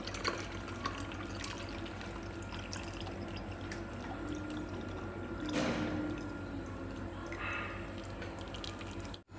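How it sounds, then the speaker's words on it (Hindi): Homemade desi ghee poured through a sieve, giving a faint, steady liquid trickle and splash with a brief louder pour partway through, in a quiet setting. "अब पोनी की मदद से ना इसको हम छान भी लेंगे ताकि जो ऊपर रह गया ना ये जाग सी ये भी सेपरेट हो जाए।"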